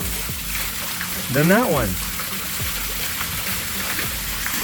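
JEFLIKE submersible water pump splashing water, a continuous close gushing spray with a brief louder surge, someone talking over it.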